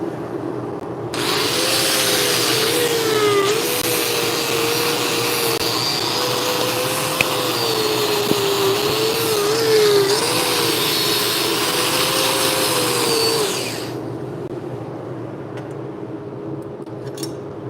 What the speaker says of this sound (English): So I'm going to wire wheel this and then grind down the front side.